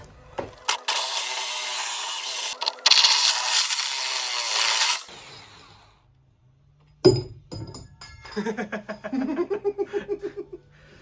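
A hole saw cuts through the floor of a Ford Transit Jumbo camper van during a diesel heater install, with a loud burst of grinding and drilling followed by a pause. Rattling, clinking metal follows, then a rhythmic series of short knocks.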